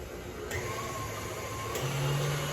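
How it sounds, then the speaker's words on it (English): A KitchenAid stand mixer running on high to whip empanada dough ingredients, a steady motor whine at moderate volume with a faint rising hum near the end and no voices. "now I'm going to have this on high. About 4 to 6 on the KitchenAid mixer."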